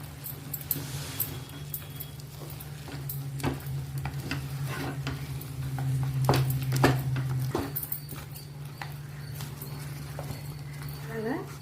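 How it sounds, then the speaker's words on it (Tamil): A wooden masher works thick ragi (finger millet) porridge with broken rice in a pot over a low flame, giving dull repeated thuds and sticky scraping in an uneven rhythm, close, under a steady low hum. "மத்தோட பின்னாடி சைடு வச்சு அந்த ஸ்லோ ஃப்ளேமே வச்சு நம்ம இது நல்லா கிண்டி விடலாம் இல்லை தட்டாமல் கிண்டலாம்"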